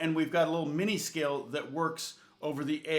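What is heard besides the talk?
None of the usual background noises is heard.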